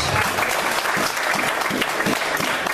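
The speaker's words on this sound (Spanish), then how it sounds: "Den un aplauso al Señor." A congregation applauds during a church service, dense sustained clapping filling the whole stretch at steady loudness with no pause.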